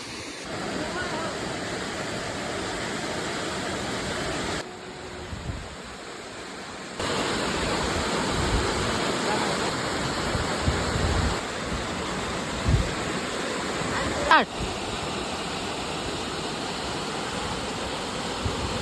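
A waterfall gushes through a village in a loud, steady roar of rushing water. Wind buffets the microphone, and the level drops briefly partway through.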